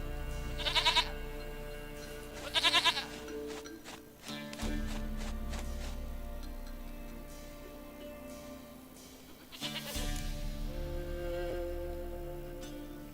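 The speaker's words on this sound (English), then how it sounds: "Goat of mine, dearest, sweetest goat." A goat bleats twice in quick succession in the video game The Witcher 3, loud and nasal, followed by footsteps and ambient game sounds, with a later bright jingling burst.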